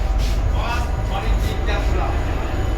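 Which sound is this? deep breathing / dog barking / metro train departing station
metro train departing station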